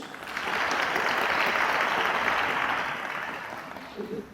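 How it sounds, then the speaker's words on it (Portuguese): Warm, even applause fills a hall at an artistic career management congress in 2018, a dense continuous patter of many hands that swells, holds, then eases off as a voice begins. "Flora Gil, que recebe mais uma vez os aplausos de todos."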